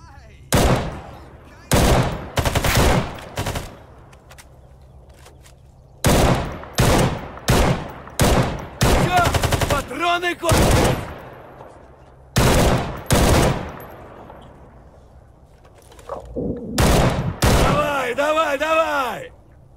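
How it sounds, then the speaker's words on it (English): Gunfire rings out during a firefight with mercenaries in the video game S.T.A.L.K.E.R. GAMMA: loud, close bursts of rapid shots in repeated volleys, with short pauses and brief talk between them. "Okay, that's much better shooting than last time."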